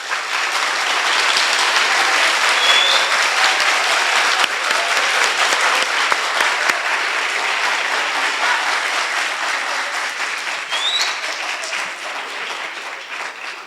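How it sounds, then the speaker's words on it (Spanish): An audience claps steadily after an inaugural keynote lecture, a dense, sustained wash of applause that holds for the whole stretch and fades slightly near the end. "Merecidos aplausos."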